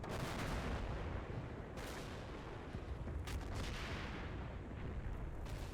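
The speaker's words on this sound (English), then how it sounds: "Oh, that sounds like more artillery coming in, which isn't surprising." Artillery fire in a WWII strategy game: a continuous, low, rumbling barrage of booms and blasts, moderately loud and layered, with a few sharper reports standing out and no voices.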